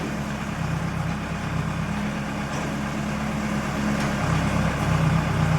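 Heavy diesel engine of a JCB excavator idling and rumbling steadily at a nearby digging site, a constant low drone that grows slightly louder toward the end, with no talk.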